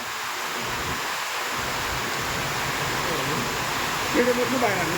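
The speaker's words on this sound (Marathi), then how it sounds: "फिरला पाऊस असा यायला लागला बघा" Heavy rain pours steadily during a cloudburst with hail, a dense unbroken hiss close around, with faint voices rising briefly near the end.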